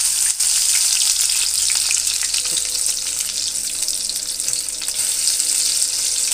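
Battered meat sizzles and spits steadily in a hot frying pan, a close, continuous crackle with faint clinks of turning, and no voices.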